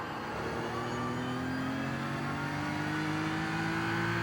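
A BMW M4 GT3 race car engine in a racing game accelerates at the Nürburgring Nordschleife, a steady loud rising drone as revs climb smoothly through a gear, heard from the cockpit with no talk.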